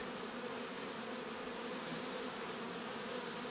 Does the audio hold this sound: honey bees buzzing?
yes